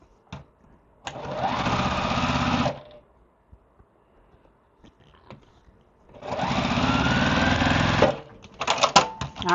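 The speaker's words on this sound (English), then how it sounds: "we're going to sew them together" A sewing machine stitches quilt pieces together in two steady runs of a couple of seconds each, loud and close, separated by a quiet pause with small handling noises.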